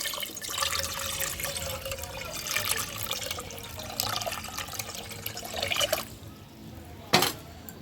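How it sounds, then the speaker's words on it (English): Water is poured into a pot outdoors in Jamaica for boiling saltfish, a steady splashing trickle that stops abruptly near the end, followed by a short knock. "Some water in the pot, you know."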